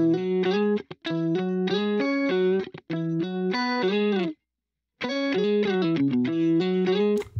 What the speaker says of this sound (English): This is what the guitar sounds like in a solo.